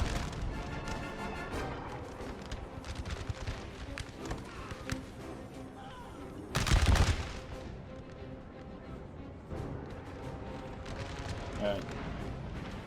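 Musket volleys in an American Civil War video game, a steady crackle of distant gunfire with one heavy boom partway through, under a voice talking throughout.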